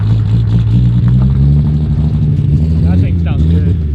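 Mitsubishi Evo 8 engine running on E85, a loud, steady close-up rumble with rising revs, with voices talking nearby over the engine noise.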